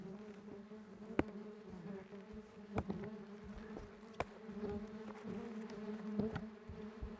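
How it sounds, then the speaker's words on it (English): Yellowjackets buzz angrily around a ground nest after the soil above it is pounded, a dense, continuous insect drone with sharp close passes and clicks, fairly faint overall. "The buzzing is pretty intense and they are trying to fly up."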